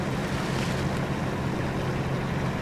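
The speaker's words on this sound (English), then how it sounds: "Hear the engine grunt a little bit for the heavy water," A heavy truck engine labours steadily through deep water in SnowRunner's Yukon map, a continuous low drone with sloshing wash and broadband rush held at a constant level throughout.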